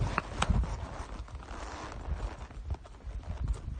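A ridden horse walks on a loose rein up a hillside trail, its hooves giving an irregular, close clip-clop of soft thuds and scuffs with light tack rattle, moderately loud and steady.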